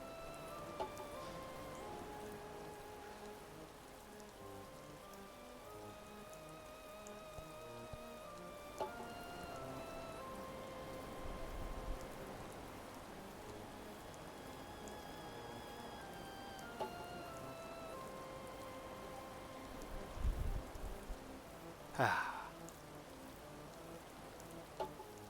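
Steady soft rain patters without a break through a calm Animal Crossing New Horizons island scene, running under gentle game music, with a brief louder rustle near the end.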